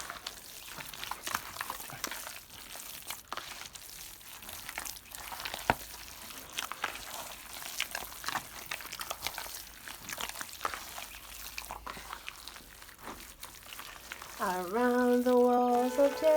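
Jamaican blue drawers (dukunu) batter being mixed, soft repeated wet slapping and scraping strokes in a steady rhythm, close and moderately quiet, with a brief burst of singing-like voice near the end.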